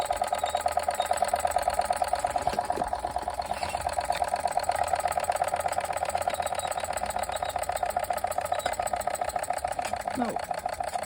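A small Machinator Steamfire model steam engine runs steadily during a steam-up, giving a fast, even mechanical chugging that continues throughout at moderate loudness, with a person talking over it.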